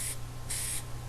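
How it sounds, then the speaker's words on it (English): Two short bursts of blue spray paint hissing from an aerosol can, close and fairly quiet, with a brief gap between them, used for painting water in a picture. "all I'm doing here is just spraying some blue"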